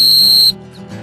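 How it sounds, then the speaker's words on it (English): Dog training whistle blown once outdoors, a loud shrill sustained tone lasting about half a second before stopping abruptly, followed by quiet ambient noise. "Blow that whistle when they're coming away from you."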